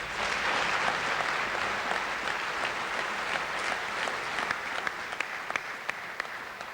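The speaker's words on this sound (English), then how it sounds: "So I think the whole squad deserve a round of applause." Audience applause at a football club's awards night, a steady dense clapping that fills the whole stretch at even loudness with a few sharper individual claps standing out near the end.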